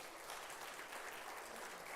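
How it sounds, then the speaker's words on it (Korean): A church congregation at a Korean Sabbath service claps to welcome visiting elders, a faint, distant, steady patter of many hands continuing evenly, with no voices heard. "우리 환영의 박수 부탁드립니다"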